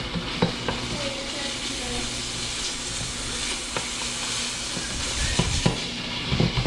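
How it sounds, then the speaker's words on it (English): Chicken with curry powder stirred in a hot pan, a steady sizzle and hiss of frying with occasional scrapes and knocks of the utensil against the pan. "once we stir in half the curry powder, we're going to stir in all of the curry powder"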